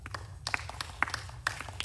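Audience at a Canadian space strategy event applauding, scattered individual claps and short bursts from a smallish crowd, fairly faint and uneven.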